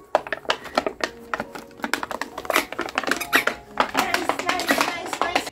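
A squeaky dog toy squeaks over and over in quick, uneven bursts, close and fairly loud, as a big dog chews and plays with it indoors.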